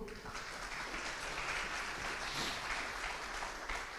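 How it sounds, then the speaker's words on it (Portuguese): A church congregation applauding during a sermon, a dense continuous wash of clapping heard from a distance and fairly faint, steady for several seconds. "Aplauda o Senhor."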